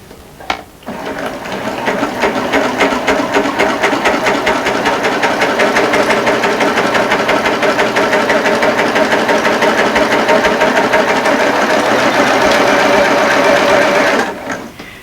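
A Baby Lock Applaud cover stitch serger running along a seam, a loud, fast, even mechanical chatter of needles and motor sustained for about thirteen seconds before stopping, heard close and alone.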